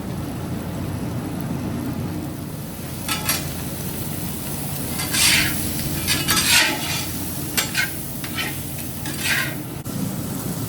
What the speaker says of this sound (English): Freshly seasoned pot. Now we just gotta get it up and brown the sausage.